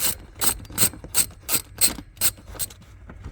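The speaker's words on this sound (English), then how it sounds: "these particular bolts are 13 millimeters, so I've got them kind of unscrewing" A ratchet wrench clicks in eight quick, even bursts, close and moderately loud, while loosening 13 mm bolts on the floorboard sill of a 2014 Ford Mustang.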